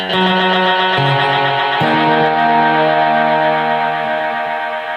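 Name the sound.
Strymon BigSky Magneto reverb effect on guitar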